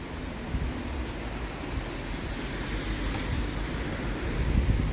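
A stream in Beitou, Taiwan flows with a steady, broadband rushing wash, close and continuous, with slight swells toward the end.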